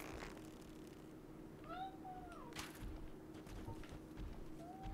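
A pet cat lets out a couple of short meows, the first a drawn-out bending call and a later brief chirp-like mew, close to the mic over a constant low hum and faint background game sounds.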